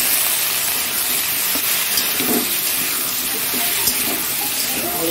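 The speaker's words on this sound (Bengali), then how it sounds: "আলুটা একটু ভালো করে কষিয়ে নিই" Potatoes fry with pointed gourd, salt and tomato in a pan, a continuous close sizzle with wet bubbling and occasional scraping of stirring underneath.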